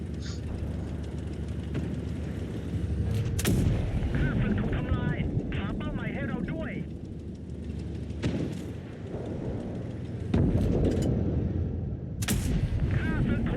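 Heavy TNH 105/1000 tank cannon firing in World of Tanks Blitz: four loud booming shots spread over rumbling engine noise and wind, with a voice talking between them.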